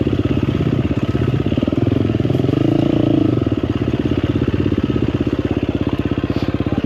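A 2024 KTM 350XCF Factory Edition dirt bike engine runs at a loud, close, rhythmic idle with a fast, even thumping pulse and a slight rise in revs midway, alone with no talk.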